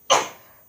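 A single short sneeze bursts out abruptly, close and fairly loud, then trails off quickly into quiet.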